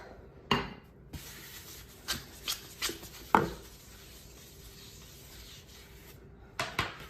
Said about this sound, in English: I just take my hand and I rub inside this bowl